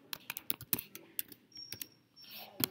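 Rapid, uneven clatter of keys on a computer keyboard, a burst of close, crisp clicks typing out a short phrase, with no talking.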